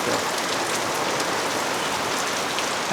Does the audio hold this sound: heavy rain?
yes